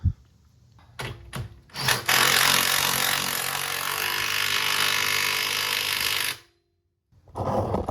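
Power tool tightening steering parts during an off-road steering and track bar install: a few brief bursts, then one long steady whirring run of about four seconds, a short silence, and the tool starting again.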